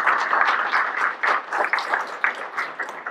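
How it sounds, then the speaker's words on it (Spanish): An audience at a talk on Bartolomé de las Casas and human rights breaks into loud, dense applause from many hands, sustained for several seconds with no voices on top. "les pido un gran aplauso para ellas"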